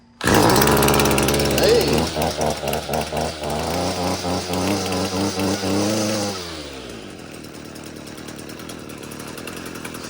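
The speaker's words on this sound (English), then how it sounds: "We got our new carb on and it's running, so we know that was our issue." A gas weed eater engine running after a carburetor replacement, starting up loud with a buzzing, revving drone that pulses rapidly before settling to a lower idle; a voice calls out briefly.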